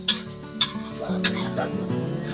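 Garlic and shallots frying in a pan for a shrimp-paste rice sauce, a steady sizzle with a few sharp clinks and scrapes of stirring against the pan, close and moderately loud.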